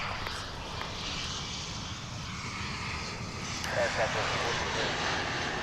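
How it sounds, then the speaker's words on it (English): A passenger plane arriving at DFW International Airport on a quiet early morning, its engines a steady broad roar at middle distance that swells slightly toward the end, with an outdoor rumble and a voice talking over it. "Arriving now is a flight from Aguascalientes"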